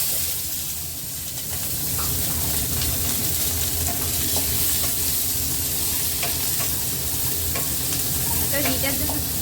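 Onions and capsicum tossed in a very hot pan for chilli gobi, giving a steady close sizzle with scraping and stirring clatter throughout.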